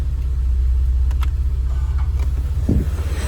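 Car exhaust rumbling through an opened PSE muffler valve, a deep, steady throaty drone close by with a brief bark near the end.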